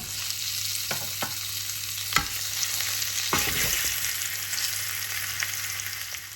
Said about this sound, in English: So while the second lot of lamb is cooking away